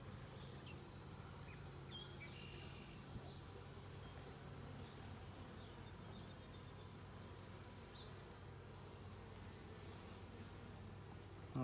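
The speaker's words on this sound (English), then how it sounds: "I love bees that do a lot of work and are also well behaved" Honey bees hum steadily from an open hive during a frame-by-frame inspection, a dense, continuous close buzz with a few individual bees droning past, heard alone without talk.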